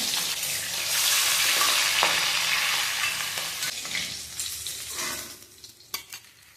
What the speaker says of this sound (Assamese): মাছ ভাজিলে অকণমান নিমখ হালধি দিওঁ।